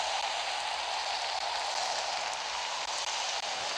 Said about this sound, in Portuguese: Até tá chovendo ácido.